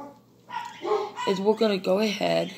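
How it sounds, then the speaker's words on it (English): Several dogs bark in quick, repeated yips and woofs close by indoors, overlapping a person talking. "Sorry about the dogs."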